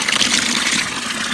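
Water gushing loudly from a tap on a small livestock farm, a close, steady rush of filling with no talk.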